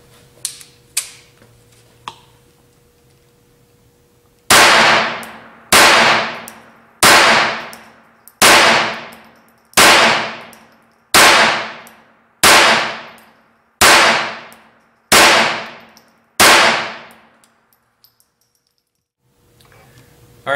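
Ten sharp, loud .22 pistol shots from an unsuppressed Ruger P22 with a Tactical Solutions upper, fired at an even pace about every second, each crack followed by a short ringing decay outdoors, with a few faint clicks before the string.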